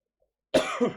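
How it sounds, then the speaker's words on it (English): A single close, sharp cough after near silence, with a second rougher burst right after. "I might cut out that cough, might not"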